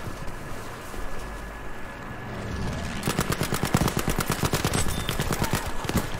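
A Sten submachine gun in Battlefield V fires a rapid, sustained burst of evenly spaced shots for several seconds, loud and close, after a quieter stretch of ambient battlefield noise.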